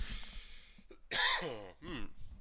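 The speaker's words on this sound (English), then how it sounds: "I'm gonna cough because I need to." A single sharp, close cough bursts out mid-clip during a LEGO-building workshop livestream, with a short breathy follow-up and quiet room noise around it.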